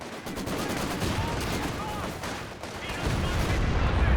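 Goliath demolition vehicle blowing up in the WWII strategy game Company of Heroes 2, a loud rolling burst of explosive blasts mixed with crackling battle gunfire, swelling again toward the end under faint game voices.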